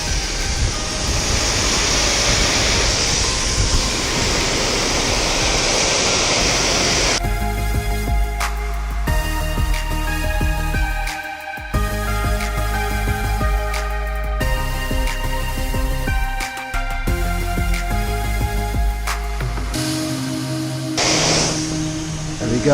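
Pressure washer blasting dirt off a commercial fibreglass roof, a loud steady hiss of spraying water that runs continuously, shifting in tone as the jet moves across the surface.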